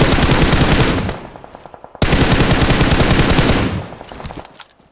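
Rapid automatic gunfire in the mobile battle royale game PUBG Mobile, loud close bursts of dense repeated shots that briefly taper, break off, then resume in a second long burst before fading.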